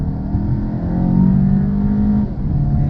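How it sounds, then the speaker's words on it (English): A 2021 Volkswagen GTI engine revs loudly and climbs in pitch as it accelerates, holding a strong droning note before easing off briefly near the end. "the thing about it is it's noisy. It lets you know that you're accelerating"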